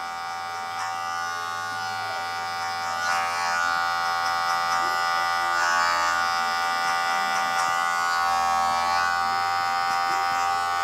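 Electric hair clippers fitted with a 0.5 guard cut hair in a barbershop during a middle-part haircut, a steady close buzzing hum that shifts slightly in pitch as the blade moves through the hair, with no talking.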